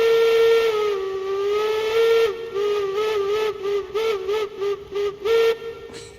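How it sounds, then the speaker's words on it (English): Steam locomotive whistle in the train game RailRoads Online, one long sustained blast followed by a rapid series of short rhythmic toots, loud and close with nothing else heard. "you got the whistle"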